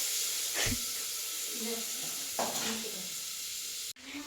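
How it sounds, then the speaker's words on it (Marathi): Onion frying in a pan as the first step of a home chicken curry, a continuous close sizzle and hiss with a few louder stirring bursts and a sharp knock near the end. "इकडे ना पहिले कांदा परतून घेते मी"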